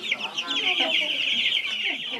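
A flock of chickens at a school poultry farm in Kampala clucks and squawks continuously at close range, many overlapping calls with no talk.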